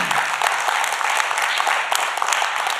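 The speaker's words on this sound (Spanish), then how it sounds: "Dale un fuerte aplauso al Señor" A church congregation applauds loudly and steadily, with dense, sustained clapping that fills the whole moment and no voices over it.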